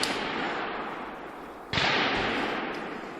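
Gunfire at a military shooting training ground during an exam, a dense crackle of shots with a sharp louder burst midway, steady and moderately close, no voices heard.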